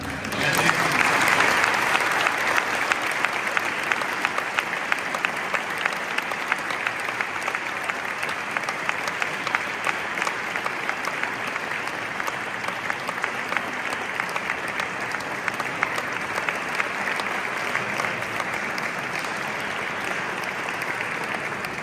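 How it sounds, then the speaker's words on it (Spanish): Sustained, loud applause from an audience welcoming a speaker at a Holy Week proclamation event in La Ñora, dense, even clapping that continues for the whole stretch without a break. "Reciban con un fuerte aplauso"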